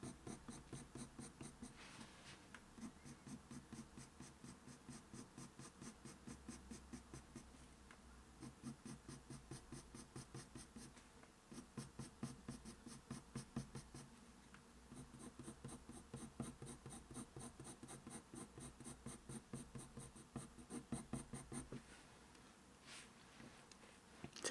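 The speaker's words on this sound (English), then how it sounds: "I'm just using really small strokes with my dark sepia pencil" A dark sepia coloured pencil scratches small, quick strokes across paper in a long, even run of light rasping, faint and close, with a few brief pauses and no voices.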